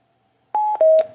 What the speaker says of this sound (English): My all-tech Bluetooth speaker is dying, so I'm going to shut it off